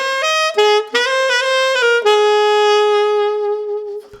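A solo saxophone playing a smooth jazz melody from a song, clear close tones moving through a short phrase and ending on a long held note.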